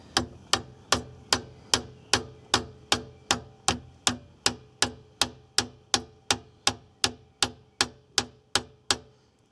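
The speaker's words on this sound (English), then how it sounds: "just tap it in a couple of times with the lump hammer" A lump hammer taps a part into a Honda B18 engine during a build, about twenty sharp, evenly spaced metallic knocks in a steady rhythm, close and loud with no talk.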